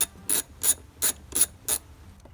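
A ratchet loosening the 10 mm battery hold-down bolt on a Jeep Wrangler JK/JKU, heard up close as six loud, evenly spaced bursts of clicking pawl strokes.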